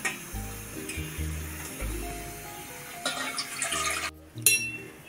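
Quiet splashing and swishing of water with light clinks against a bowl, sago pearls being rinsed by hand in irregular bursts.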